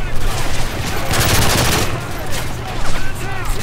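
Rapid P90 submachine gun bursts in Call of Duty MW3, loud sustained automatic fire with a short lull before a second volley.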